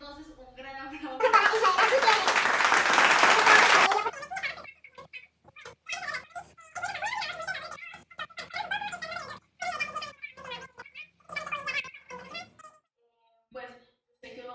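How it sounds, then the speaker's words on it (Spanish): A short burst of applause from a small audience at the start of a talk on international law, loud clapping for about three seconds, then someone speaking alone. "Entonces, un gran aplauso."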